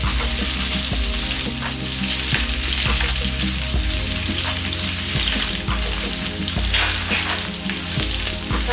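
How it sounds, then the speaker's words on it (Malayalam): Onions sauté in a pan with curry leaves, cinnamon and cloves, giving a loud, close, continuous sizzle with occasional stirring scrapes and clinks. "ഇനി ഇതിലോട്ട് നമുക്ക് ആ സവാള ഇട്ട് വഴട്ടാം."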